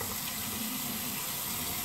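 Water runs steadily from a tap during a rinse after a head shave with a HeadBlade razor, a continuous close hiss with no talking over it.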